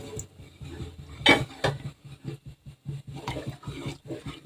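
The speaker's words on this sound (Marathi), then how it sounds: "असं ढवळत राहायचे" Wheat starch for kurdai is stirred in a metal pot, a steady rhythm of thick, gloopy scrapes and soft knocks repeating close by, with one sharper clatter early on.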